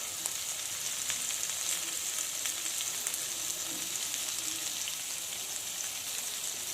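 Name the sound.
fish frying in a pan with crushed shallots added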